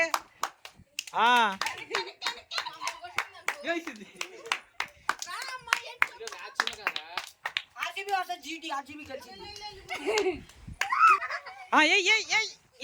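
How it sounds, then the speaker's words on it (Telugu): A few scattered rounds of hand clapping from a small group, mixed with children's chatter, giggles and shouting voices nearby. "ఏ మీరు క్లాప్స్ కొట్టరేంటి?"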